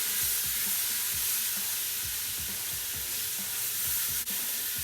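Pork tenderloin sears in a Ninja Foodi with a loud, constant hiss and sizzle, broken by repeated soft scraping as the meat is moved.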